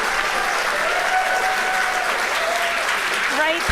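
Crowd applause and cheering rise after a SpaceX Falcon 9 first-stage booster lands on a drone ship during a Starlink launch, a steady wash of clapping under an excited voice and whistles.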